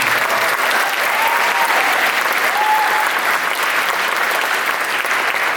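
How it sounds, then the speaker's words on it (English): A crowd at a culture night event breaks into loud, sustained applause, dense clapping throughout, with a few whoops rising above it. "so I'm going to give a round of applause to Ari and Risa who are in the building"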